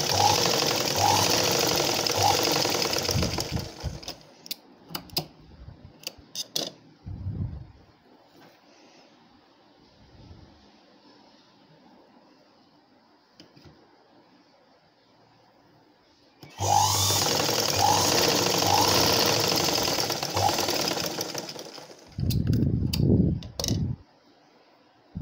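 A sewing machine stitching a blouse runs in two loud, close bursts, one at the start and one after a long quiet gap, whirring steadily with a few clicks in between.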